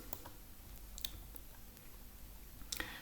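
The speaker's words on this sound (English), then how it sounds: "right click to escape" A computer mouse gives a few faint, crisp right-clicks during a LibreCAD drawing session in a quiet room.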